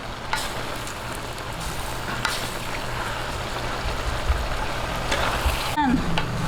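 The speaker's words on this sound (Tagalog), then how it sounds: "Atin lang pong haluin." Mixed vegetables for lumpiang hubad stirred in a hot pan, with steady sizzling and a few scraping strokes nearby.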